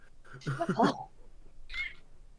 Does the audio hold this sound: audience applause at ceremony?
no